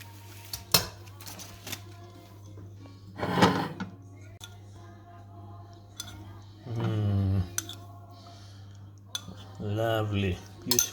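A spoon basting pork belly in a pot with garlic and mustard, giving scattered metallic clinks and scrapes against the pot, several sharp knocks, and soft stirring in between.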